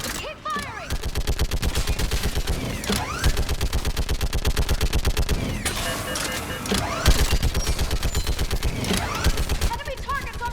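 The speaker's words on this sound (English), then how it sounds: "Keep firing!" Rapid sustained automatic gunfire in the Mass Effect 3 video game, loud and close, with brief pauses between long bursts of rattling shots.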